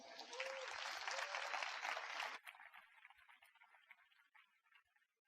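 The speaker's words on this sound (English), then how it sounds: "very big round of applause for Ivan." A conference audience at hackconf claps for a speaker, dense applause for about two seconds, then thinning to scattered claps that fade out.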